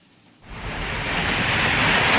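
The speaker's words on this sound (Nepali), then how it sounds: "मुसुलधारा पानी परेको अवस्था, मसिनहरू पनि झरिरहेको छ।" A heavy downpour of rain starts abruptly after a brief quiet moment and builds into a loud, steady, dense roar with no voices over it.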